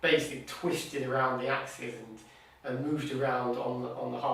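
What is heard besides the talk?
No everyday noises stand out.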